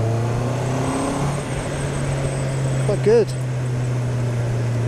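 A 2022 Honda CB650R Neo Sports Café motorcycle engine pulls steadily in gear with a constant low drone, while a rider talks over it and a brief rising whine appears near the end.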